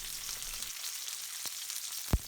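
Curry ingredients for a British Indian restaurant-style balti sizzle steadily in a hot pan, with a constant hissing fry and a couple of sharp scraping knocks from the stirring spoon near the end.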